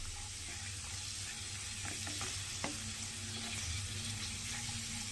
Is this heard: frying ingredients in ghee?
yes